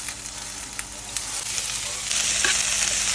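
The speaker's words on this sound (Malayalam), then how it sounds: "നല്ല ചിക്കൻ പൊരിയുന്ന പോലെ ഗോപി പൊരിയുന്നുണ്ട്" Cauliflower pieces (gobi) fry in an oiled pan with a continuous crackling sizzle that grows louder and more intense toward the end, with a few light stirring clicks.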